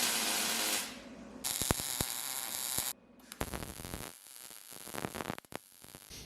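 Tack welding on tube bars in a fabrication shop: loud crackling, buzzing arc bursts of a few seconds each, broken by short sharp clicks and pauses, with no talking.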